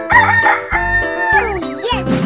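A rooster crows loudly and close, a full cock-a-doodle-doo call with a wavering, drawn-out ending, heard alone without talk.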